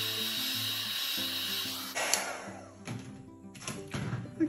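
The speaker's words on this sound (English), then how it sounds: "I will hit it with the heat tool one more time" A heat tool blows over a fluid art pearl pour, a breathy whirring rush heard close by in short uneven bursts that stop and restart, with some background tones underneath.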